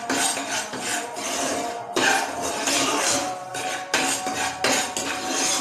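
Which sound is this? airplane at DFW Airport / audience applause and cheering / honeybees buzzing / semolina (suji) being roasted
semolina (suji) being roasted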